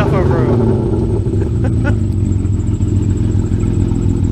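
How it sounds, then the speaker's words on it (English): An old, worn-out car engine in need of replacement revs at a steady, loud, rough drone with a constant clattering rumble throughout, while a person talks over it. "Give it a little bit of vroom. A little bit more vroom."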